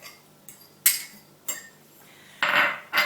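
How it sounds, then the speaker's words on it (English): Chives, dill, breadcrumbs and cottage cheese stirred together in a bowl: a few sharp utensil clinks and scrapes against the bowl, close by, with quiet gaps between them. "Mix those all together and add a tablespoon of olive oil."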